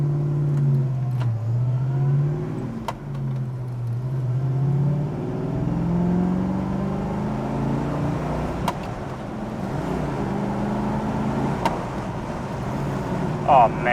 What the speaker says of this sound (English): this car just boogies down the road